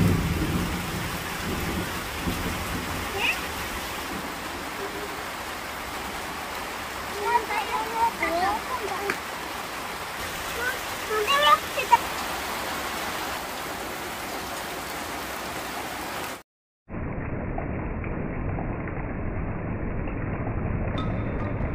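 Steady rain falling through a winter day, a dense hiss with faint rumbles of thunder, then an abrupt cut to a slightly different rain recording.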